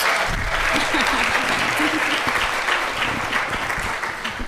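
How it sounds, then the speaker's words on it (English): Audience applause for a panel at a public health forum on stroke prevention, steady full-room clapping throughout with faint voices beneath. "Let's give them one more round of applause."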